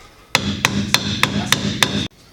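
Six sharp metallic hammer strikes on a Hyundai Genesis Coupe subframe, with the car up on a lift, land at a steady rhythm, close and loud, ringing over a low background hum.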